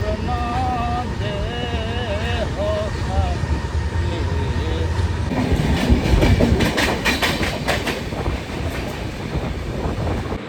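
A passenger train bound for Kanyakumari rumbles along with steady rhythmic clatter and roar close by, while a voice can be heard early on over the noise.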